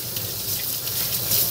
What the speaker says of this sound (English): You want to wash these now.